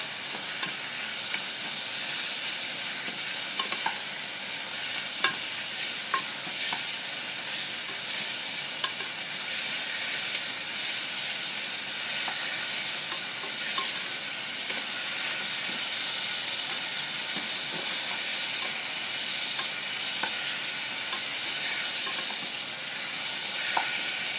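Meat sautéing in a pan for a honey curry, a continuous bright sizzle and hiss with occasional small clicks of stirring, steady and close with no speech.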